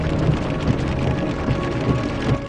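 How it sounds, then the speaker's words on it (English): Hail and heavy rain drum on a car during a tornado, a dense, continuous clatter with low rumbling thumps recurring about every half second, close and loud with no voices. "news cameraman Wally Hubbard was caught in a hailstorm and forced to stop his car"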